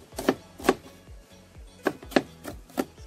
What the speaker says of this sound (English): So I am going to cut up the onion.